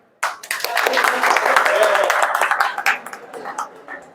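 Audience applause at a youth gym fitness event, a sudden burst of many hands clapping that holds strong for a few seconds and then thins out, with some crowd noise mixed in.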